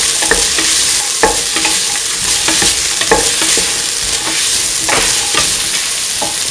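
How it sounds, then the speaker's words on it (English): Chopped winter melon and ivy gourd being stirred and mixed in a hot pan for a coconut milk stew, loud steady sizzling broken by repeated scraping knocks of the spoon. "Chop and mix thoroughly."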